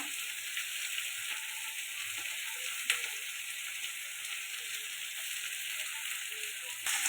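Tomato and ginger-garlic paste fry in a pan with a soft, steady hiss of oil, quiet and unbroken, with one or two faint clicks of a utensil and no talking.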